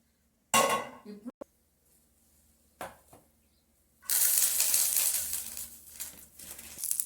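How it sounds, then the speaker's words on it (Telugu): Dried red chillies drop into a metal pan with a couple of clatters, followed by a sustained dry sizzling and crackling as they toast, while the pan's metal ring softly underneath, no talking. "మిరపకాయలు కూడా ఇలా వేసుకోవాలి."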